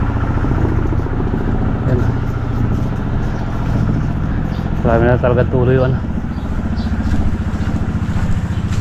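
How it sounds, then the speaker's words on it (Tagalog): A small engine that drives a water pump for hose irrigation of farm plants runs with a steady, close drone. Someone speaks over it throughout. "Yan, napandar natin yung makina."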